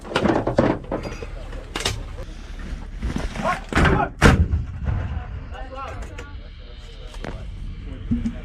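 An M119A3 howitzer fires with the 173rd Airborne, giving several heavy booming blasts with echoing rumble, loud and close, amid shouted commands from the crew.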